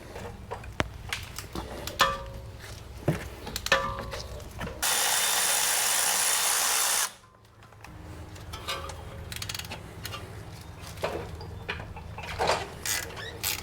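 A power tool briefly runs on a suspension bolt of a VW Tiguan, a steady loud burst of about two seconds standing out against quieter clanking mechanical work before and after.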